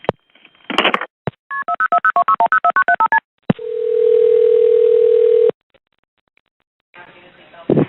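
A cell phone keypad sends a quick run of about fourteen DTMF tones in even succession, then a steady dial-like tone holds for two seconds before noise resumes; loud and close with no talk.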